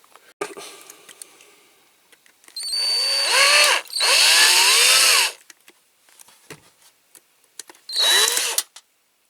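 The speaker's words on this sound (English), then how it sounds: "I think my drill's getting a bit blunt." A blunt-bitted power drill whines in three bursts drilling out rivets on a Corgi Holmes wrecker, pitch rising and dipping as it bites, with faint clicks and handling noises between.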